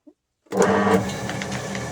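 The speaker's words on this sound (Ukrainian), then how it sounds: "запускати в роботу гранулятор. Вмикається е, кнопочкою." After a moment of silence, a pellet granulator switched on by a button starts abruptly into a loud, steady mechanical hum with a tonal whine, which then settles slightly lower.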